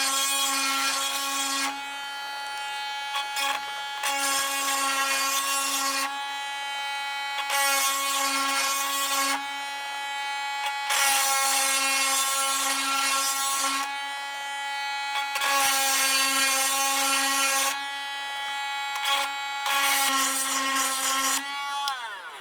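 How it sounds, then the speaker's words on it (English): A small 12-volt chainsaw sharpener grinds chain links in steady, loud whining bursts of a few seconds each, separated by short pauses as it moves from link to link, with no talking. "Got our trusty little chainsaw sharpener here"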